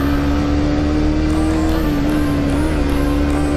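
A car engine held in second gear on a Valentine's Day ride, droning loud and close with a steady revving tone that dips and rises slightly, no talk.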